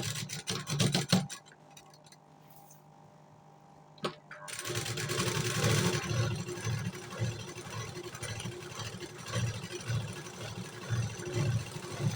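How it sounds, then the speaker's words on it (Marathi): A domestic sewing machine stitches a puff-sleeve garment at slow speed. A clattering burst gives way to a quiet pause, then a steady, close, rhythmic mechanical whirr and rubbing runs to the end without speech. "त्याच्यामुळे मला मशीन खूप स्लो चालवायला लागते."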